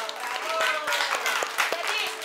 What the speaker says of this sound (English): Si vous êtes content, on applaudit.